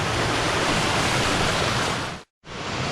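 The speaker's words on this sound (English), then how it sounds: "This is just a neat little feeder creek." A small feeder creek in rugged country in Tolima, Colombia, near volcanic hot springs, rushes in a steady, close, hissing flow that cuts out for a moment near the end.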